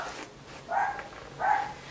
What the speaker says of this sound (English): She won't stop barking.